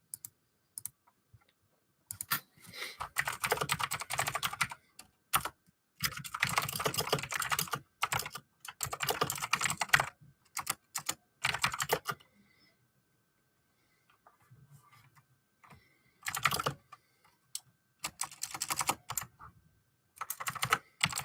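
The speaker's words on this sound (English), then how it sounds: "You might see me time to time just stop talking and start typing." Bursts of rapid typing on a computer keyboard, close and clicky, in several separate runs broken by quiet pauses, with nobody talking.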